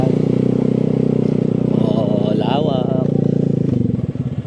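A motorcycle engine putters steadily nearby, its rough idle running throughout, with a few clattering sounds over it.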